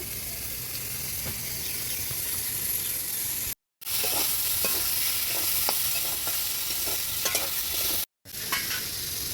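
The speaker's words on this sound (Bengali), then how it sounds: "সবজিগুলো আমার সব ভালো করে ভাজা হয়ে গেছে" Vegetables for a thankuni leaf and shrimp dish fry on a wood or clay stove, giving a constant close sizzle with repeated scraping stirs, broken by two brief silent cuts.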